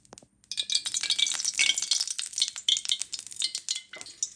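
Okra (bhindi) fries in hot oil in a pan, a close, steady crackling sizzle that starts abruptly after a brief pause and keeps popping and hissing unevenly.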